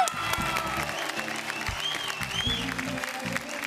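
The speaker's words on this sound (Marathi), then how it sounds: "त्यामुळे आय फील त्याच्याकरता एकदा पुष्कर करता टाळ्या." Audience applause for young dancer Pushkar on a Marathi TV dance competition, Dance Maharashtra Dance Little Masters; moderately loud clapping over a rhythmic backing music track, sustained throughout.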